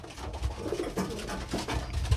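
Racing pigeons cooing at their loft after a 35-mile race, with several soft, low, throaty coos following each other closely and nearby, and no talking.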